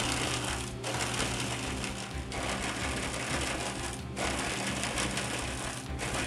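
A Formax 8500AF auto-feed paper shredder draws paper into its cutters, a loud continuous mechanical grinding and churning broken by short dips in the noise, with no talking.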